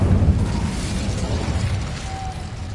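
In Hogwarts Legacy, the Incendio fire spell goes off as a loud, broad whooshing blast of flame with a low rumbling roar that holds steady throughout.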